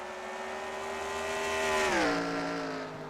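Race cars at Sonoma in the game NASCAR Racing 2003 whine past, engine pitch swelling and then dropping as a car goes by in a loud pass.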